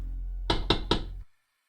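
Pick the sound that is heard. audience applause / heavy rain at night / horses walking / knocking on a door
knocking on a door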